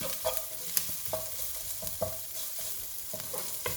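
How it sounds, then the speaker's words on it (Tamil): Green chilies and crushed tempering spices frying in oil on medium heat for a Sri Lankan crab curry, a steady close sizzle broken by soft spoon scrapes and stirring clicks, with no talking. "green chilies நான் இடித்து வச்ச தாளிப்பு எல்லாத்தையும் பொரிய விட்டுருப்பேன்"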